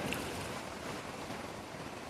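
Fast-flowing river water rushing past in a steady, loud broadband roar that fills the whole moment without pause, with no voices.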